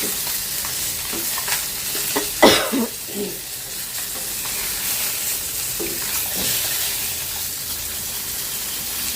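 Fish sizzles steadily as it fries in a generous amount of oil, with a brief burst of louder spattering and stirring clatter near the middle. The frying noise continues alone with no talking.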